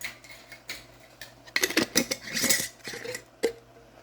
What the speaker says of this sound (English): I am opening some of my freeze-dried onions, and I'm just going to dump some in there.